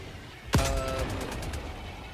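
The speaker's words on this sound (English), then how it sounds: "that's a mortar turret" A mortar turret in Helldivers 2 fires one heavy, sharp boom that rings out and trails into a rumbling echo with some rapid crackling.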